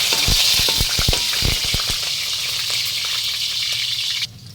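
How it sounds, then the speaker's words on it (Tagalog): Beef bones sizzle and fry in hot cooking oil in a pot for a Filipino beef nilaga, a loud steady crackle with sharp pops over the first two seconds, continuing until an abrupt drop near the end. "pero ngayon igigisa natin siya"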